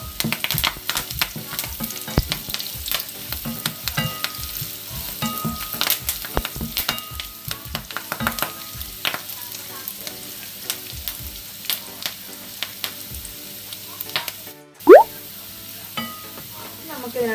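Curry leaves crackle and sizzle in hot oil in a pan, a steady, dense frying hiss with scattered sharp pops and a brief clatter near the end.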